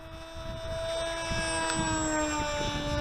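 Electric Rambler-X FPV flying wing making a low pass at just over half throttle on a windy day: a steady, loud, high-pitched propeller and motor whine, with turbulent wind rumble underneath throughout.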